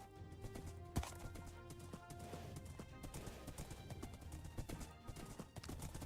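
Horse hooves clip-clop in Minecraft, a faint, steady run of clicks over a soft game background.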